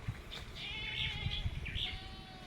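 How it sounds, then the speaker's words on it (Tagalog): Goats bleat faintly in the distance, a few wavering calls over a low rumbling background. "Ito yung mga kambing, ayan."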